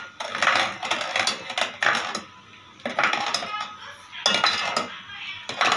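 A spoon scrapes and clanks against a metal pot while stirring garlic, shallots and galangal, in repeated bursts of clatter separated by short quiet gaps, close and fairly loud.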